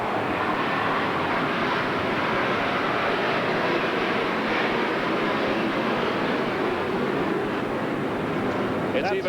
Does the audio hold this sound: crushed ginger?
no